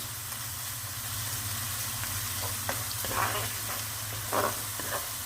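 Tomato or pepper paste frying in olive oil in a pan, a continuous soft sizzle with occasional stirring scrapes and crackles, under a low steady hum.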